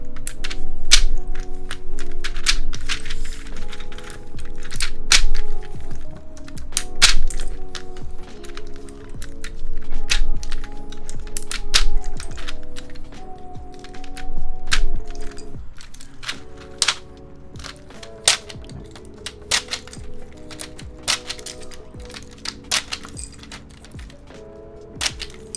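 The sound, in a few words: removing keyboard keycaps with a keycap puller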